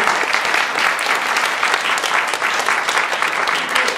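A conference audience at an evening energy event applauds steadily and loudly, the dense clapping holding an even level throughout without a break.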